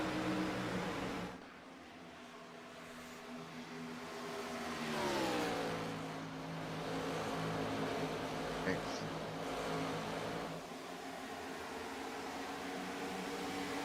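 Race car engines in the iRacing sim racing game at Auto Club Speedway, a droning engine tone with rising and falling pitch sweeps as revs change, sustained at moderate level beneath a commentator talking.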